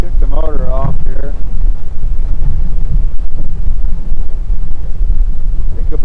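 Heavy wind buffets the microphone on a drifting fishing boat with the motor off during white bass fishing, a loud constant low roar, and a voice speaks briefly near the start.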